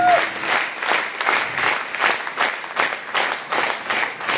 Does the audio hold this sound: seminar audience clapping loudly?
yes